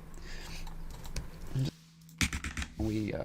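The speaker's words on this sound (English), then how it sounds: "So when I press 1 on my keyboard, we just have that." Computer keyboard keys are pressed during music-production software work, giving a few separate clicks and short bursts of tapping. Someone talks over them.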